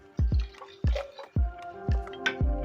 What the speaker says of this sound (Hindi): जग में भी डालेंगे